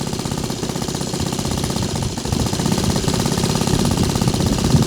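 A Laser 160 inline-twin model aircraft engine, freshly serviced, idles steadily at a low tick-over with a rapid, even buzzing pulse that stays loud and close throughout and rises slightly in level partway through.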